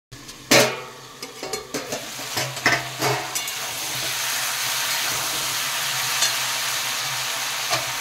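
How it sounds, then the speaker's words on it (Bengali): Pumpkin and potato pieces stirred in a frying pan, giving a run of close scraping and clattering strokes for the first few seconds over a steady sizzle that carries on alone afterward. "আবার একটু নাড়িয়ে ঢাকা দিয়ে রাখবো।"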